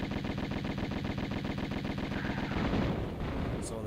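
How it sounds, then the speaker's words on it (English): Rapid gunfire from Uzis and pistols in Tomb Raider, a fast even stream of loud repeated shots that ends in a brief tail near the end, with no talking. "the Uzis have the exact same power as the pistols, but their firing speed is like 3 times as fast"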